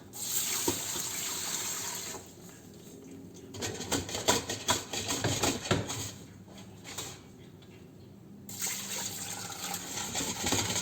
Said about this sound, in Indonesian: Lalu kita masukkan air.